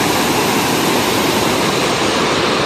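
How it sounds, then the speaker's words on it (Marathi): Montmorency Falls in Quebec roars as a massive waterfall, a loud, dense, unbroken rush of falling water heard up close with nothing else audible. "हा मॉन्टमोरेन्सी फॉल आहे"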